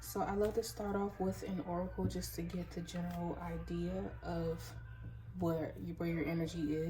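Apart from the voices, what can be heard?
No everyday noise stands out behind the speech.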